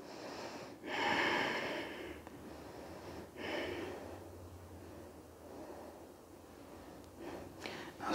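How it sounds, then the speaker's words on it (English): Deep, slow inhaling and exhaling during a beginner yoga session, with several audible breaths spaced a few seconds apart, close and moderately loud, with no talking. "Take few deep inhale and exhales."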